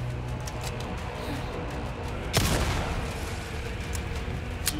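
Gunfire in the video game Resident Evil 4, a steady noisy game soundscape with one loud shotgun-like blast midway, followed by a decaying rumble.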